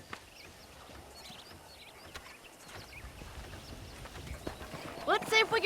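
In the video game Red Dead Redemption, hooves clop faintly against a low, noisy background, building toward the end where a horse neighs loudly in a shrill, wavering whinny.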